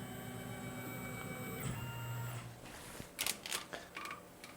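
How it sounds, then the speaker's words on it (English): Tormach PCNC 1100 CNC mill facing the top of an AR-15 buffer tube with a Superfly fly cutter, a steady droning hum with tonal whine, followed by a few sharp bright bursts as the cut ends. "we're going to do is just clean up the top with the Superfly to give us a nice surface finish"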